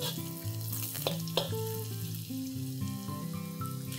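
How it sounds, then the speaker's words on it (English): Ginger, garlic and green chilies sauteing in a pan for chilli idli, a soft continuous sizzle close by under light background music, with a couple of brief stirring knocks early on. "Let's saute this till the ginger and garlic turn golden."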